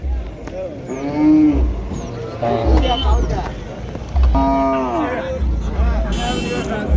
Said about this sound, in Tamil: ஒவ்வொரு கண்ணுக்குட்டியாக இறக்கிட்டு இருக்காங்க இறக்கி அந்த பக்கம் கொண்டு போயிடுவாங்க